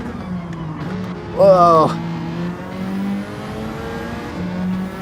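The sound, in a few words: Ferrari race car engine in Gran Turismo video game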